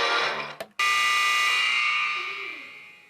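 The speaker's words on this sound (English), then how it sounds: "I think that's the buzzer." A loud electronic game-show buzzer blares, cuts out for an instant, then sounds again in a long steady tone that gradually fades.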